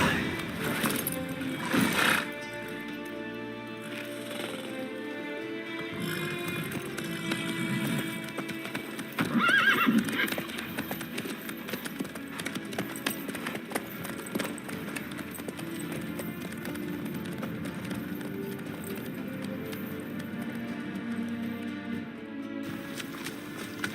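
In the video game The Witcher 3, horse hooves clip-clop steadily at a brisk pace beneath game music, with brief voices speaking.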